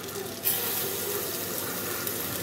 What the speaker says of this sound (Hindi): ये हमारे गोला कबाब बन गए हैं, अब हम इन्हें फ्राई करते हैं